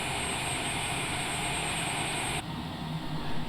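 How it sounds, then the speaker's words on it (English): Cessna Citation Longitude business jet engines on the ground after landing at San Diego's Lindbergh Field, a loud steady whine and roar that drops abruptly as the engines shut down, leaving a lower fading hum. "so now we're going to turn off the engines"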